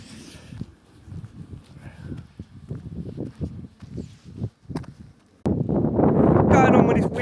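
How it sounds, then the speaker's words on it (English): Wind blows outdoors. Soft rustling and footstep-like scuffs come first, then strong gusts roar and buffet the microphone loudly for the last couple of seconds. "Going on with this wind as well today"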